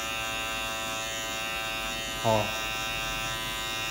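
Electric hair clippers buzz steadily at close range while cutting a fade, a constant motor hum with a brief louder burst, under someone talking in Portuguese.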